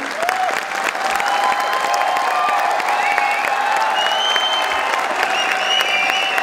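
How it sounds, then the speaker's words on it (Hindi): Loud, continuous clapping from a crowd at an Independence Day poetry recital, with thin whistles and scattered cheers rising over the steady applause. "जोरदार तालियां।"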